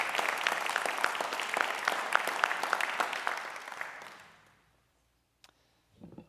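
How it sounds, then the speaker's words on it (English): Applause from an audience at an alumni awards ceremony, brisk steady clapping for about four seconds that fades to silence, followed by a faint click and a brief low thump. "Let's go ahead and give a big round of applause."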